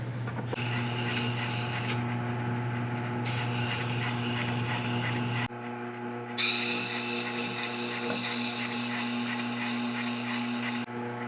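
Metal chipbreaker from a hand plane being cleaned up with steady rubbing or filing, a continuous scraping rasp with a constant hum beneath it, briefly pausing midway before resuming.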